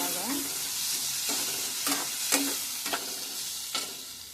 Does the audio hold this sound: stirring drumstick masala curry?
yes